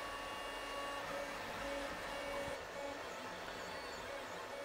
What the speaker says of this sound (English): I'm printing one pair on this printer and the opposite pair on another printer